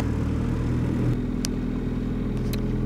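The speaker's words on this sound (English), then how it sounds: "So I'm going to drive around for a bit" A car engine hums at a steady low rumble while driving, close and constant, with a couple of brief sharp clicks partway through and no voices.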